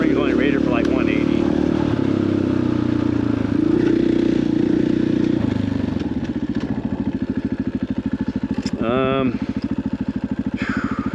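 An off-road motorcycle rumbles loud and close along the dirt trails at Stonyford OHV, its engine note shifting with throttle and fading into a steady pulsing idle, with a brief whistle-like squeal near the end.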